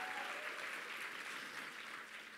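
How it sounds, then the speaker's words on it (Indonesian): A church congregation at a youth worship service claps together in a steady, even wash of applause, fairly faint and distant, with no voices over it. "kasih tepuk tangan saudara-saudara"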